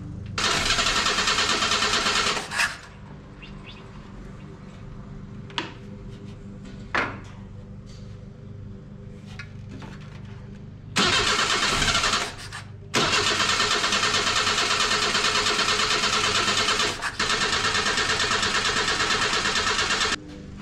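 A junkyard 1977 Datsun 710 wagon engine cranks without catching in loud, whirring bursts separated by quiet pauses, with a few clicks and clunks between attempts.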